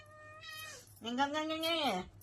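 A cat meows clearly and close by, first a shorter call and then a longer, louder drawn-out meow, against a quiet background.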